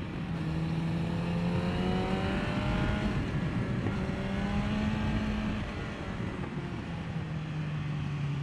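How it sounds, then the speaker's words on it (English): A Yamaha FZ1 motorcycle on a street ride downshifts and revs, its engine note climbing in repeated sweeping pitch rises, loud and close under constant wind rush. "Okay, so it's downshift here."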